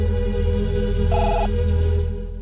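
A telephone bell rings once in a short electronic burst, loud and close, over a steady background hum with no talk.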